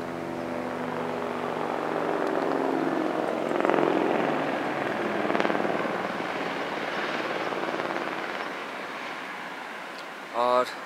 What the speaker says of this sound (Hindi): हेलीकॉप्टर भी उतर रहा है।